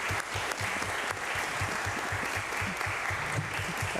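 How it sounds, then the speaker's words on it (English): An audience at a candidates' forum applauds, sustained, even clapping with a few lower, rhythmic thumps underneath. "Now, applaud."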